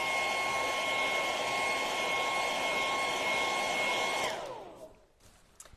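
A hair dryer whirs loudly and steadily with a high whine, then winds down and cuts off near the end, leaving quiet.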